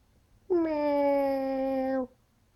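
A tired cat lets out a single long, clear meow lasting about a second and a half, close and prominent against a quiet room.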